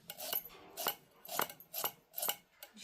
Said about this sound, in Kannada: ಬಟಾಟಿ ಸಣ್ಣ ಕಟ್ ಮಾಡತ್ನ